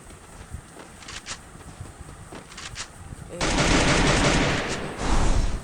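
Gunfire in a ranked battle royale video game match, a few scattered distant shots at first, then a loud sustained burst of rapid fire followed by another short volley.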